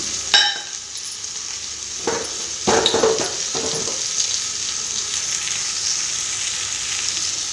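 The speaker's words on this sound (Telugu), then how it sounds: "పోపు దినుసులన్నీ ఒకటేసారి వేసేసుకున్నాము" Tempering spices for dal crackle and sizzle in hot oil, a steady close hiss with a few clinks and scrapes of a utensil early on.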